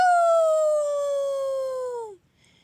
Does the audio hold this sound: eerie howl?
yes